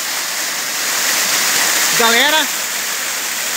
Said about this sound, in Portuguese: olha o barulho da água. Olha só. Uma cachoeira que tem dentro da mata. Uma mini cachoeira.